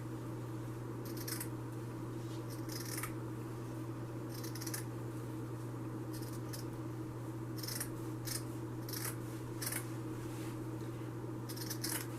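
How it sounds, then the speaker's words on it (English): Scissors cutting along a strip of burlap, with clusters of short crisp snipping strokes separated by pauses, heard close over a steady low electrical hum. "you can very easily cut the strip of burlap that you would like to cut"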